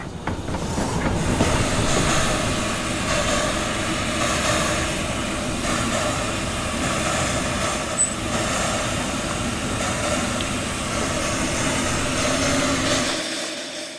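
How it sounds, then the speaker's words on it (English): A pre-WWII Czechoslovak-built locomotive runs at a steam museum. It makes a loud, continuous rumble with rhythmic rail clatter, holds steady for about thirteen seconds and drops off sharply at the end. "this locomotive was manufactured before World War II in Czechoslovakia"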